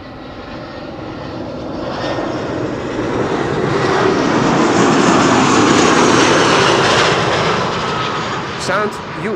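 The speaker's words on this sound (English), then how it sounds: "Sound you are picking up on the ambient mic are that of Iberia Express, arriving from Madrid, an A320." An Iberia Express Airbus A320 jet airliner roars past on landing, swelling from a distant rumble to a loud peak midway, then fading as it lands.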